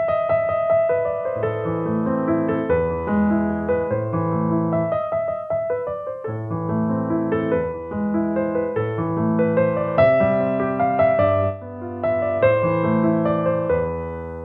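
A solo piano plays an excerpt of Beethoven's classical piece Für Elise at a steady, moderate volume, its flowing melody clear over broken-chord accompaniment.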